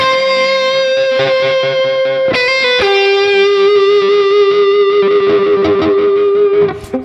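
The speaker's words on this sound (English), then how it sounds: "you don't really hear the noise you create with the extreme vibrato technique" A sustained, distorted electric guitar note warbles under extreme vibrato, with scratchy string noise and pitch wobble riding on top, loud and continuous without any speech.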